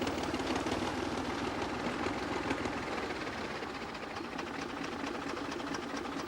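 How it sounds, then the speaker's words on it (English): An old bulldozer engine runs steadily after years of roading and land clearing work, a continuous close mechanical clatter and drone with a fast rattling rhythm, no talking. "The old dozer did most of the roading and land clearing work on the property and is still cranked up to do maintenance."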